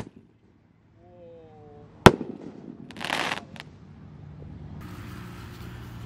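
A Roman candle firework fired from a launcher goes off with a single sharp, loud bang after a brief faint whistle, followed by a short hissing burst and a lingering crackly rumble.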